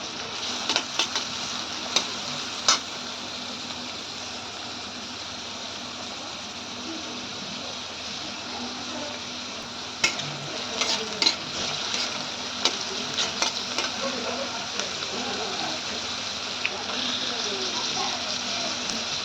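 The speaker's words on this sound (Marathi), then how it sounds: "बारीक चिरलेला कांदा फोडणी करून घ्या" Steady sizzling of finely chopped onion frying in hot oil, with occasional stirring clicks and scrapes, loud and close throughout.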